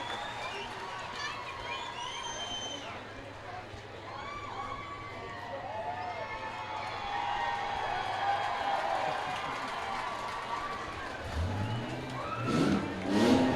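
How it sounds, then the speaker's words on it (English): Crowd cheering and applause at a county fair demolition derby, a broad steady roar from the stands that swells louder toward the end, with an announcer talking over it and engine noise underneath. "Listen to that crowd ovation."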